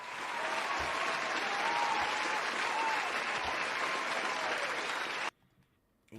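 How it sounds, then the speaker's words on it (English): A crowd applauding in a room, dense steady clapping with a few faint whoops, holding for about five seconds before cutting off abruptly into near silence. "Let's give them a round of applause."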